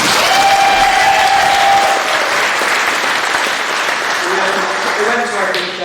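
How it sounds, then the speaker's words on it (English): Wedding guests at a reception give a loud, sustained round of applause during the speeches, with crowd murmuring and a few cheering voices mixed in as the clapping slowly eases. "so a big round of applause to Kate, please"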